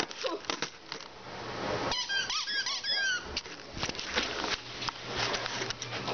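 A squeaky dog toy squeezed for a puppy gives repeated sharp, high rubbery squeaks in short bursts, close and loud, mixed with light shuffling and patter.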